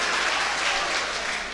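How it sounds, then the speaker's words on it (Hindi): Applause at an Urdu poetry mushaira in Amroha: a packed audience claps in a thick, even wash of sound, loud and continuous through the whole short stretch. "दोस्तों बहुत अच्छा मुशायरा, एक मुशायरे के लिए एक बार जोरदार तालियां बजाइए मरगूब भाई के लिए।"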